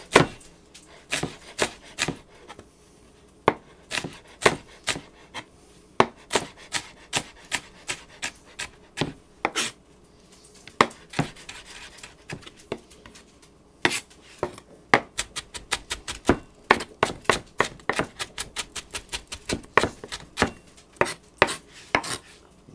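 A knife cuts red pepper into julienne strips on a cutting board, with a long run of crisp, rhythmic chops close up, some slow and spaced, others in quick bursts, with no talking.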